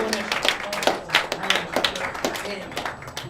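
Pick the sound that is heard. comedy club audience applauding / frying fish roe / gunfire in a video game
comedy club audience applauding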